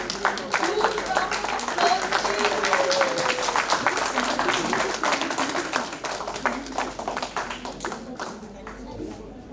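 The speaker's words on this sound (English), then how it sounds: "Big round of applause, please." A large round of applause fills a ceremony hall, thick and continuous at first, then thinning into scattered claps toward the end, with voices mixed in underneath.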